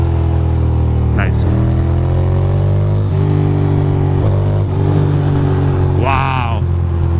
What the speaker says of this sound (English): my bike sounds freaking mean as machine